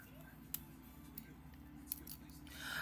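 Scissors snip through a length of chain trim, with a few sharp distinct cuts spaced across a steady low background hum, ending in a brief rustle.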